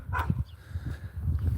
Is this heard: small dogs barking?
yes